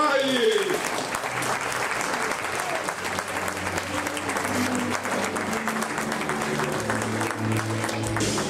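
An audience at an amateur staging of the musical Sister Act applauds steadily, a dense, even wash of clapping that carries on for over eight seconds, with some voices mixed in.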